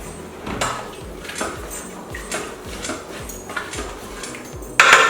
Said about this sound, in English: you're going to mix it really well